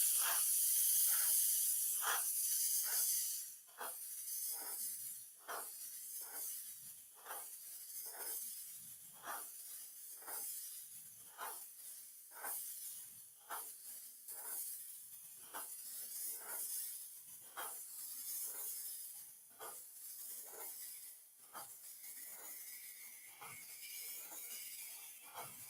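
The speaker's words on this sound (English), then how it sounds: "You can see how much better it sprays when it's clean." Spray gun laying paint onto a sportsman-class mod race car body, heard as a long series of short, sharp hissing bursts in a quick, fairly regular rhythm, close and loud, with no talking.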